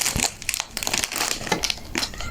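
A plastic apple juice pouch crinkles and crackles as it is handled up close, a loud, continuous run of sharp crumpling bursts.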